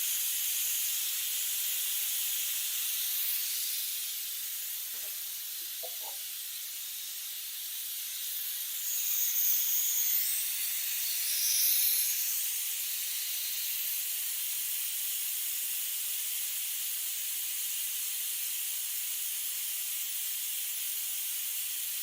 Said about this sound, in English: I wait until all the pressure has been released